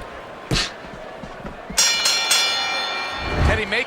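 A boxing bell clangs to end the sixth round of a heavyweight bout, a sharp ringing strike standing out over crowd noise, thuds and an excited commentator's voice.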